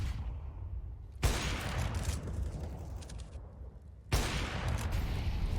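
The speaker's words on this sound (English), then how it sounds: "He's really convinced he's going to get this wall bang" Wall-bang gunfire during a Counter-Strike match on the Vertigo map, with two loud, abrupt bursts of shots that hit hard and each ring out over a dense, noisy background.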